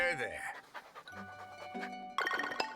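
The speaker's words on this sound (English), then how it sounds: "we do have a dog now." A dog in the farming game Story of Seasons: Grand Bazaar pants in quick breathy bursts, with cheerful game chimes and jingles sounding around it, close and fairly loud.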